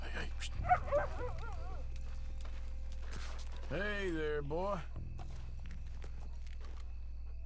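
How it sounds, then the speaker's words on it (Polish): Dog in a cemetery in the video game Red Dead Redemption 2, a couple of brief yips and a longer whining bark over low game ambience, with footsteps and someone talking at times. "Pies na cmentarzu?"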